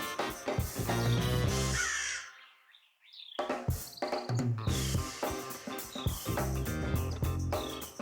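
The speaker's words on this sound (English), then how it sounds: "the crows seemed pretty happy with themselves" Crows caw loudly and repeatedly near a squirrel, with harsh overlapping calls, one short quiet gap, then renewed bursts of cawing.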